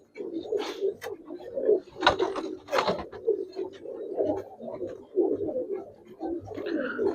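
Giribaz pigeons in a collection coo steadily in soft, throaty, overlapping calls, close by, with wing flaps and cage clatter breaking in now and then.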